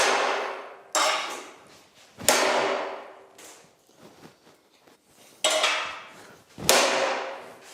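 Hammer blows on hot metal during forge welding of an overlapped strip for a Viking half-mask helmet: five ringing strikes in an uneven rhythm, each with a bright decaying clang, plus softer taps in between.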